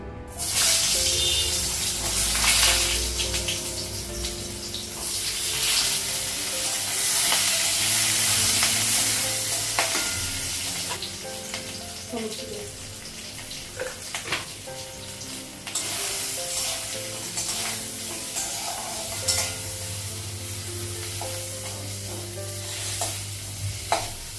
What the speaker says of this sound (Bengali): আলুটা আর লঙ্কাটা একটু ভেজে নেবো তেল দিয়ে